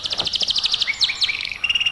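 Rapid bird chirps and tweets in quick repeated bursts, fairly close and clear, with no voices over them.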